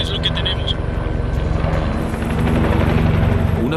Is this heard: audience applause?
no